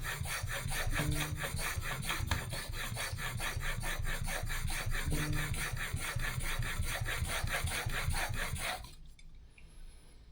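A hand plane blade, from a Jorgensen No. 4 plane, rubbed back and forth on a sharpening stone, a close, loud, rhythmic scraping of steady strokes that stops abruptly near the end.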